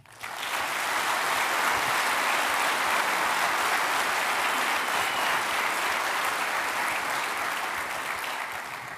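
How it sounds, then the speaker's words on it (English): Conference audience at a keynote applauding, a dense, steady wave of clapping that swells quickly and holds for several seconds before slowly easing. "let's give them another hand."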